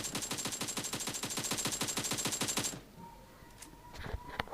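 Gunfire in PUBG Mobile: a loud, rapid automatic burst of evenly spaced shots, then a short pause and a few scattered, fainter shots with no talking.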